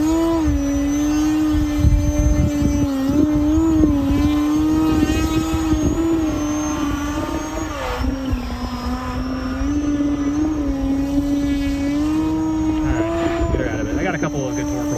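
An E-flite Turbo Timber RC plane performs torque rolls. Its engine whines steadily and loudly, with the pitch wavering throughout. A voice speaks over it at times.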